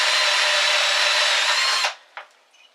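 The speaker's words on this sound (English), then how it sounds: "let's drill this." A power drill whines loudly and steadily as it bores through a 1-inch chunk of oak, then stops abruptly, followed by a couple of faint clicks.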